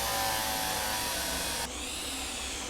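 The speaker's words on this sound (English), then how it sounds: "Get your electric hand drill." An electric hand drill in the video game Derail Valley whirs steadily in a continuous high-pitched drone, then drops abruptly to a slightly lower, quieter tone partway through; no talking.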